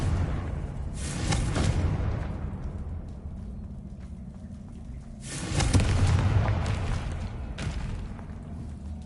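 Two heavy blasts from the Confringo spell in the video game Hogwarts Legacy, each a loud booming burst with a rumbling tail, spaced several seconds apart.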